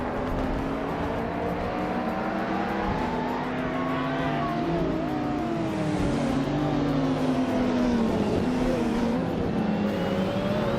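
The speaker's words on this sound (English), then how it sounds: "Shoyo Otaro Key 39 is on fire, climbing to second place after overtaking 4 cars." Racing cars roar through a video game race, engines revving and shifting pitch in a dense, loud, continuous layer as several cars overtake one another, with no talking.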